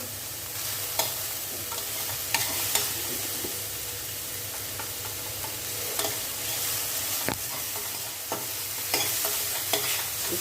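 Steady sizzling of chayote and carrot sautéing in a pan, with occasional scrapes and clinks of a spoon stirring; no talking.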